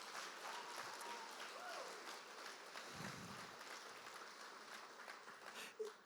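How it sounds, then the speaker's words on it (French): A church congregation claps together in steady, sustained applause filling the worship space, with faint voices murmuring underneath. "j'aimerais juste qu'on fasse une main d'applaudissement pour notre grand Dieu"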